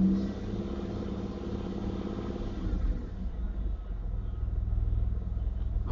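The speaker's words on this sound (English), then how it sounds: "it's running relative, like it's idling a little harsh" A 1992 Chevrolet Camaro RS engine idling roughly, a steady low rumble with uneven pulsing throughout, recorded fairly close with no talking.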